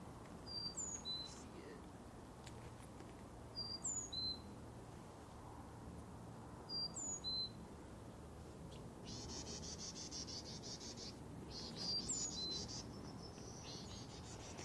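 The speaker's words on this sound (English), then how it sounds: "That is the Carolina chickadee." A Carolina chickadee sings outdoors on a hiking trail, with short high whistled phrases repeating every few seconds over a steady bed of insect buzz, faint and at a distance.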